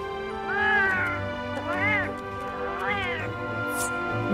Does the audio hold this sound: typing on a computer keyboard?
no